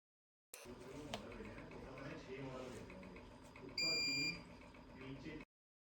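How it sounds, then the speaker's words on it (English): A Karl Fischer moisture titrator gives a short, steady electronic completion beep, faint and close, heard over low background murmur and handling noise. "a beep will confirm completion"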